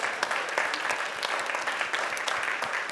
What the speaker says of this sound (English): can we start by an extra warm applause for the musicians Camilla Susanne Haug